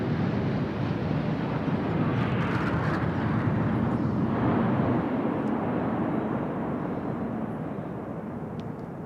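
Indian Air Force aircraft fly past in Eklavya formation at 300 metres and 780 km/h during a Republic Day flypast. A broad, distant roar swells over several seconds and then slowly fades, mixed with wind buffeting.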